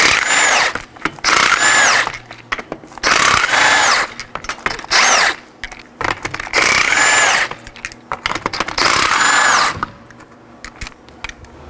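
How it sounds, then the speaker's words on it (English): Power tool with a 21mm socket spinning off five lug nuts from a 2013-2019 Nissan Sentra wheel, loud close rattling bursts of a few seconds each, repeated five times with short pauses between. "To remove the wheel, we have 5 21mm lug nuts. I'll be using a 21mm socket to remove those."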